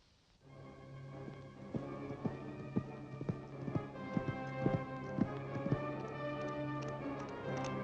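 Horse hooves clip-clop in a rhythmic run of sharp, close knocks over a low steady background in a period film scene, with no speech.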